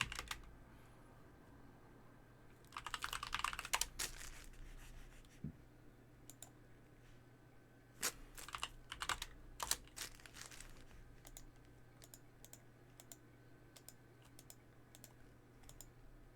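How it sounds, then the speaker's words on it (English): Someone types on a computer keyboard in quick, close clicking bursts separated by pauses, with a faint steady hum underneath. "Let's just type games with shrinking."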